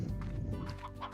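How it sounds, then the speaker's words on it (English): Chicken clucking in Slime Rancher, a short run of close, busy clucks with a low rumbling bed beneath, lasting about a second. "chicken."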